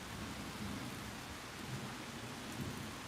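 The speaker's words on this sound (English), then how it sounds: "here come that rain." Steady rain pours down with a low thunder rumble running beneath it, continuous and fairly close throughout with no voices.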